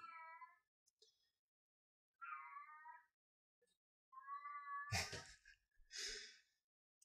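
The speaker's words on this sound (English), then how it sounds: "I apologize for the meowing kitty in the background." A pet cat meows in the background during a DIY vibrating-table build, three drawn-out, wavering meows separated by pauses, followed by a louder breathy, rustling outburst near the end.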